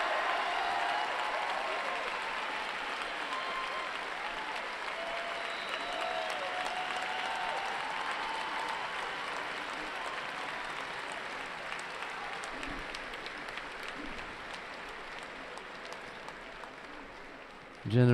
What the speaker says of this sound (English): Generous round of applause from the Bercy crowd.